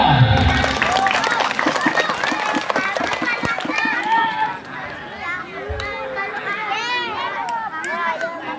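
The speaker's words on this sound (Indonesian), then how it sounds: "mana tepuk tangannya?" A crowd at a large Maulid Nabi Muhammad celebration at Pondok Pesantren Darul Abidin applauds for Al-Abidin, with scattered claps mixed into busy murmuring and voices throughout.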